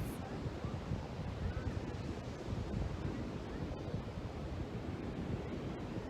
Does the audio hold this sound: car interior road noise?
no